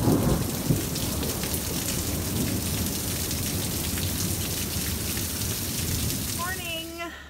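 Steady heavy rain falls on a surface through a thunderstorm on a rainy Monday, a dense continuous hiss with low rumbling thunder underneath, loud and constant from start to finish.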